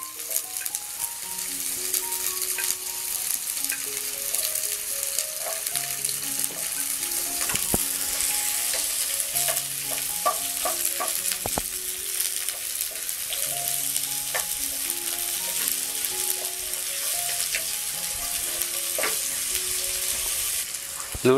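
Chopped onions and garlic fry in a pan with mustard seeds, a loud, steady sizzle with scattered crackles under gentle background music.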